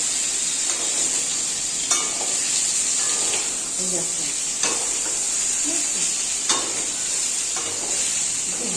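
Eggplant frying in a pan for a mashed eggplant dish, a bright steady sizzle with periodic clicks and scrapes of stirring, close and fairly loud, with a voice speaking quietly over it.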